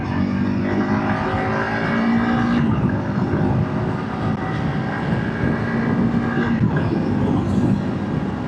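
A 2025 Honda CRF300 Rally motorcycle climbing a hill in third gear pulls a steady, loud engine drone with constant wind rush throughout.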